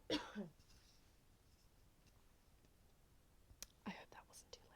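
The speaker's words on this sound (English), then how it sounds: "I'm gonna cough." A single quiet cough close to the microphone at the start of a whispered ASMR session, followed by faint soft rustles and small handling sounds.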